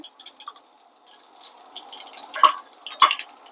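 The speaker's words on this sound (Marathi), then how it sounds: "अधिक दोन चमचे आपण तूप टाकून घेऊया" Ghee is poured from a spoon into a jaggery and coconut mixture for a traditional Konkani jackfruit sweet, giving soft, faint drips in a quiet kitchen, with two clearer drops near the end.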